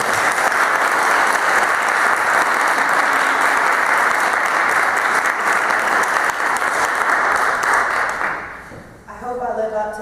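Sustained audience applause greets a speaker at a book debut event at Hartford Seminary, a dense steady wash of many hands clapping for about nine seconds before tapering off as a voice begins speaking.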